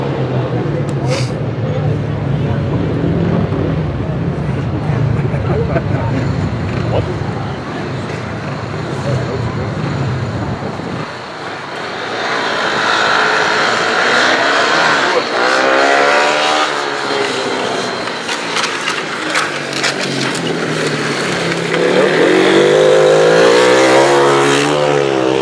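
Sidecar motorcycles on an ice speedway track in Berlin roar as they accelerate, a loud continuous engine drone that thins out and then builds into rising, wavering revs, heard close with a voice talking over it.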